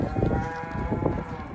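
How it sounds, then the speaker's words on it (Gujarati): A freshly calved domestic buffalo lows in a steady, close, droning moo that fills the short stretch, with farm background noise around it. "ભેંસ તાજી વિવાયેલી,"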